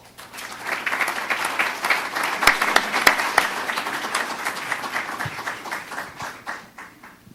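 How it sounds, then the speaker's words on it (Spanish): Audience at a university literature event applauds to welcome a speaker, a dense burst of clapping that rises quickly, holds steady for several seconds, then tapers off. "recibámoslo con un aplauso"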